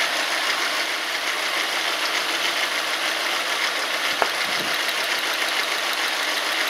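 Car engine idling with a misfiring cylinder, a constant rough hum with an uneven beat, loud and close throughout, with one sharp click partway through.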